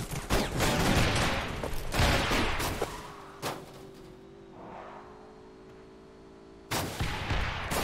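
Gunfire erupts in the Rules of Survival shooter game, with dense bursts of rapid shots and blasts up front, a quieter lull with a faint tone, then another loud volley near the end.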